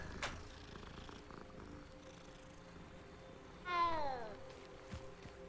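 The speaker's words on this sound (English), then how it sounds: "I must pet every kitty." A cat in the video game Hogwarts Legacy purrs softly and steadily, then gives one clear, rising meow near the end, with no talking.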